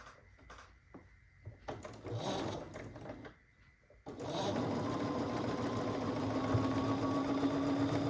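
A sewing machine stitches tiny quilt block pieces in rapid bursts at first, then runs steadily and loudly up close for the rest of the time, with a mechanical whir.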